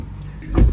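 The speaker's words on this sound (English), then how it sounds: "And then a white car pulled up, and we're like, "Is that ours?"" A white car pulling up at a roadside pickup in Krabi, Thailand: a low engine rumble swells and grows louder near the end as the vehicle draws close, with no talking.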